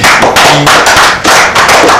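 An audience applauds a man at a local community event, a dense burst of clapping that swells in waves, loud and close, with a short tonal sound partway through.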